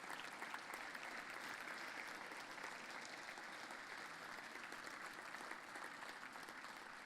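A standing audience at an annual celebration keynote bursts into steady, sustained applause, dense and even throughout, heard from a distance in a large hall.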